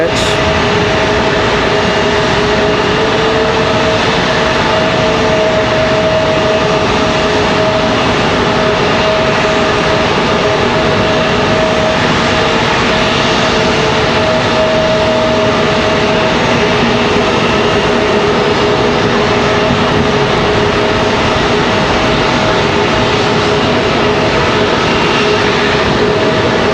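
A JetBlue jet airliner arriving from San Juan rolls along after touchdown at Raleigh-Durham airport, its engines giving a loud, steady, close whine and roar that holds constant throughout, with someone talking over it.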